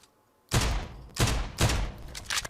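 Pistol shots in the mobile battle royale game PUBG Mobile: four loud, sharp reports roughly half a second to a second apart, each with a short ringing tail, after a brief near-silent lead-in.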